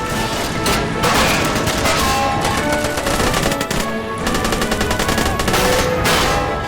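Heavy machine gun fire in the toy-soldier war game The Toy War, a loud, dense, continuous stream of rapid shots with brief dips, no talking over it.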